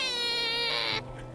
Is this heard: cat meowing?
yes